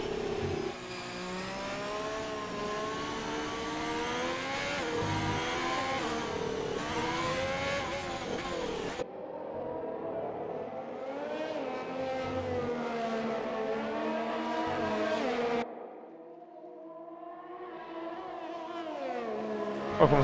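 A race car in an Xbox racing game runs down a straight, its engine loud and close, rising in pitch through the gears with repeated upshifts and a sharp drop as it backs off near the end.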